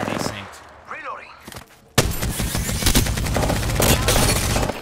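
Gunfire in the battle-royale shooter Apex Legends: quiet game sounds and a voice, then a sudden loud burst of rapid automatic fire that continues densely to the end, with speech mixed in.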